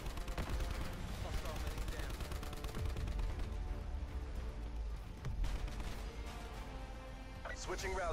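Video game gunfire: continuous rapid shots and bursts crackling under a steady wash of battle noise, with spoken voices over the top throughout.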